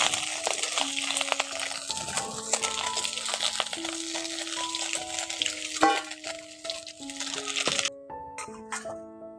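Small fish fry in a pan with a constant bright sizzling hiss under background music. The sizzle drops away sharply near the end.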